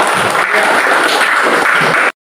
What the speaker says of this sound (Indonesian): Boleh tepuk tangan untuk